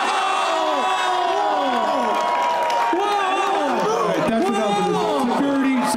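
Live studio audience at a comedy show cheering, whooping and shouting loudly and continuously, with overlapping voices and excited yells filling the room throughout.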